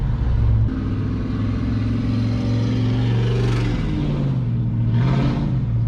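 A GMC Yukon with a Glasspack exhaust revs loudly nearby, a deep burbling rumble rising in pitch through two swelling revs before settling back to idle.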